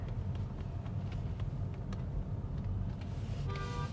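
Inside a 2024 MG Hector moving through traffic, a low steady engine and road rumble fills the cabin, with faint ticking and a short horn-like tone near the end; no one speaks.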